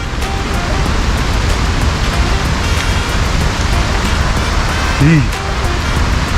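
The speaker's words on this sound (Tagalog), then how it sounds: "Lakas mo naman ulan." Heavy rain pours steadily in a dense, loud hiss, with a brief voice near the end.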